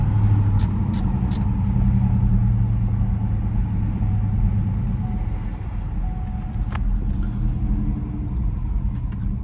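A 2023 Ford F-150 with the 5.0 V8 and a JLT cold air intake driving past in a deep, rumbling low engine drone that swells loud early and then eases as the truck moves off, with a few light clicks over it.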